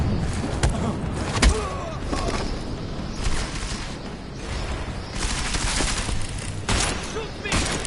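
Gunfire from a firefight in Deus Ex: Mankind Divided, with scattered sharp shots and bursts, a couple of heavy impacts, and busy background combat noise; voices shout and talk throughout.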